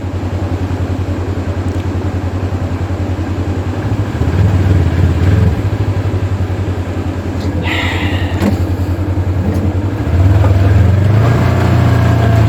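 A car engine drones steadily while driving, loud and close, with a low continuous rumble that swells briefly twice.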